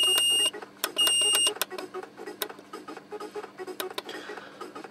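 An Atmega 8 based two-channel thermostat sounds its alarm: sharp electronic beeps in an intermittent pattern, a few longer tones at first, then quicker shorter pulses, close and clear over a low steady hum, with no talking.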